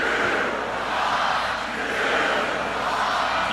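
A large football stadium crowd at a Rutgers college game roars in a steady, sustained wash of cheering, dense and loud throughout with no single voice standing out.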